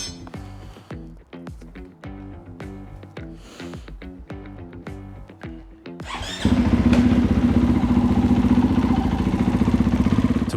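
Supermoto motorcycle engine, a Monster build, on a test run after a tight-fit engine install: first a few seconds of uneven revving and blipping, then the engine settles into a loud, steady, close running drone.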